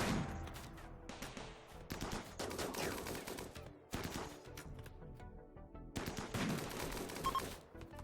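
Machine gun fire in the colony game Rimworld: dense, rapid bursts of automatic gunfire in several clusters, fairly quiet overall, separated by brief gaps.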